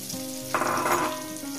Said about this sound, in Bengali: আমি কিভাবে লাল লাল করে ভেজে নিচ্ছি